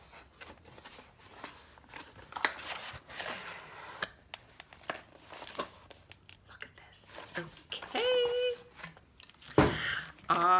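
Small scissors cut open an Allure beauty box, giving quick close snips and cardboard and plastic rustles, with soft talking in between.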